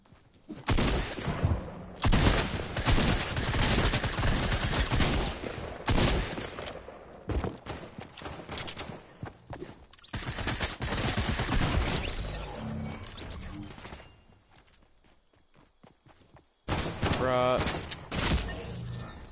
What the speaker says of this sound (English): He's still shooting at me.